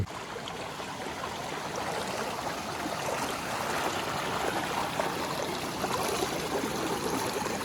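A river stream flows along the bank of the Shuk river in the Konkan countryside, with a continuous gentle rushing and trickling that stays steady and moderately close throughout, with no voices.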